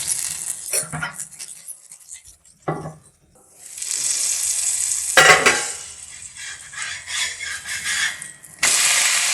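A corn dosa fries in butter on a pan, giving a close, hissing sizzle broken by scraping and clinking bursts, with loud stretches separated by brief near-silent gaps.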